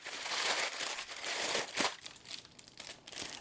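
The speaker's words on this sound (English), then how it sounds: "I'm going to kind of crinkle up the paper" Paper wrapped around garlic cloves for roasting is crinkled by hand, a soft, close rustling and crackling that runs on irregularly for a few seconds with no speech.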